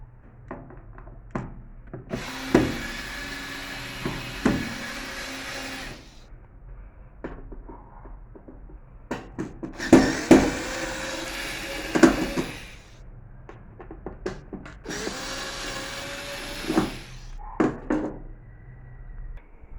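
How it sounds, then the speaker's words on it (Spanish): Someone removes the digital control panel of a Samsung front-load washing machine: repeated plastic and wood-like knocks, rubbing and scraping in several longer bursts with sharp clicks between, close and moderately loud. "Ahora voy a quitar el panel digital de la lavadora Samsung de carga frontal."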